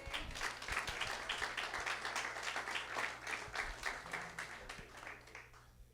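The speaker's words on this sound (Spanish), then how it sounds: "Dale un aplauso al Señor." A church congregation claps together in a sustained round of applause, steady and fairly loud, with some rhythmic hand claps standing out and a low hum beneath.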